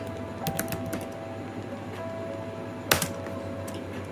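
Someone types on a computer keyboard with a few sparse, light key clicks and one sharper keystroke, close and quiet over a faint steady hum.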